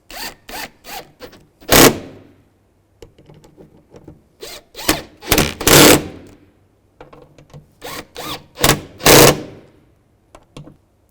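Bolts on a car door latch assembly of a 2006–2011 Cadillac DTS are driven in by a power tool in three clusters of short whirring bursts, each ending in a longer, louder run as the fastener tightens, with silent gaps between.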